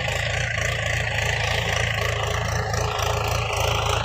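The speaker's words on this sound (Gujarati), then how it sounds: "હાલ ખેતરમાં ટ્રેક્ટર ચાલુ છે" A tractor engine runs in a farm field where millet has just been sown, giving a steady, loud, low idling drone that holds evenly throughout with no revving.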